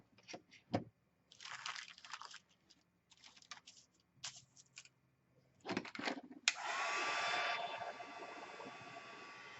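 A hair dryer switches on about two-thirds through and blows steadily and loudly to dry a painted Dollar Tree wire basket for a pumpkin craft, after scattered light taps and rustles.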